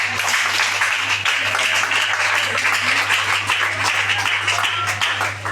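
A church congregation applauding at a thanksgiving service, dense steady clapping that fills the whole stretch with an even, crowded texture and a constant low hum beneath.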